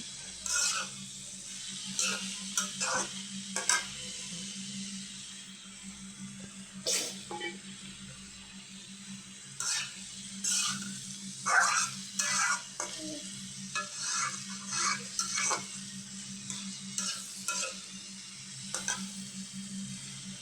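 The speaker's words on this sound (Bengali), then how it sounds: "ফুলকপিগুলো কাইটা কাইটা নিয়ে এখন বসাইয়া দিছি কড়াতে তেল ছিল ওই তেলের ভিতরে একবারে বসাইয়া দিছি" Cut cauliflower frying in oil in a wok, a steady low sizzle with scattered sharper clinks and scrapes of stirring throughout; no one talks.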